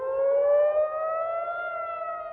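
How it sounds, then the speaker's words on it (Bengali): A civil defense air raid siren wails across an Israeli city, a steady loud tonal howl with layered harmonics that rises slowly in pitch, continuous throughout and with no voices. "তেল আভিভ, জেরুজালেম সহ ইসরায়েলের বড় শহরগুলোর অধিকাংশতেই সাইরেনের শব্দ শোনা গেছে"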